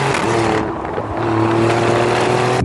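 An Alfa Romeo Giulia Quadrifoglio engine growls and revs loudly and up close, its pitch dipping briefly before climbing again in a steady, throaty drone.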